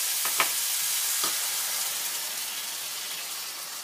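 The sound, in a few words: leftover veggies with egg, water and herb mix cooking in pan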